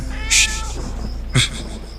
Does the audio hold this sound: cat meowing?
yes